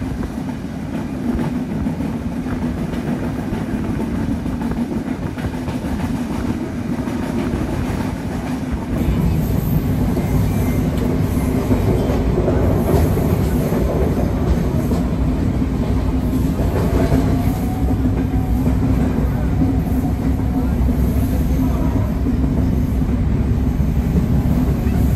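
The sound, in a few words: train passing through Mouchak station without stopping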